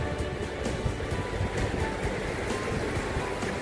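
Sea surf at Melkbosstrand beach washes in a continuous broad roar with a faint rhythmic swell, recorded up close while standing in cold water, with wind and no voices.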